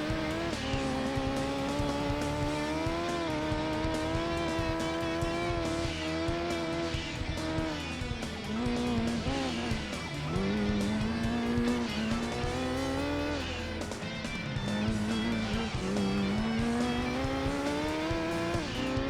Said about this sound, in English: Ford Focus might be a fast car, but it's not the fastest one.